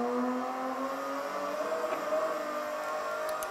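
A race car powers out of a corner at the Hockenheim circuit, its engine droning in a steady high-pitched tone as it accelerates, heard continuously from close by without talk.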